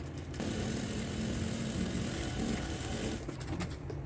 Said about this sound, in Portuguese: vou passar uma costura de pé de máquina